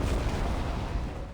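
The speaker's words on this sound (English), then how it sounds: "there's been an explosion in the middle of the temple" Explosion in a temple in the video game Epic Seven, a dense broadband blast rumbling loud and steady before fading slightly.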